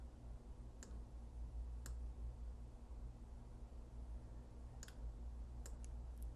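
A handful of sharp, isolated computer mouse clicks, spaced irregularly during design work in Inkscape, sound close but quiet over a low steady hum with no speech.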